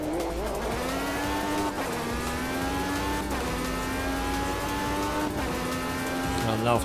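A Formula USA race car engine in a racing video game at WWT Raceway revs and drones continuously, pitch rising and dipping as the throttle is worked, with brief shifts in tone.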